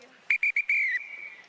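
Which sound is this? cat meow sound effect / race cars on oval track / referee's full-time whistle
referee's full-time whistle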